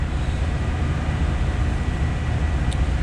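A three-storey MAN B&W marine diesel main engine runs on fuel in a ship's engine room, a loud, steady broadband roar with a deep rumbling low end and no break.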